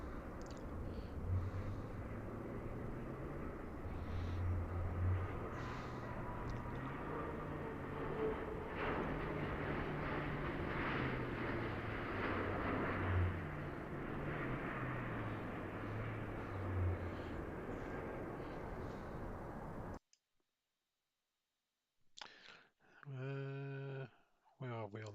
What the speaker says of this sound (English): we've got a British Airways one coming in now.